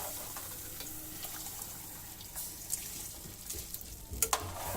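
Rice tipped into a pot of boiling water seasoned with chilli and lemon, a bubbling, sizzling churn with scattered splashes and clinks that grow louder toward the end, heard up close without talk.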